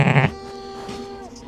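A sheep bleats loudly and close in a lambing barn in Canada, one short sharp call followed by a quieter, wavering tail and faint background stirring.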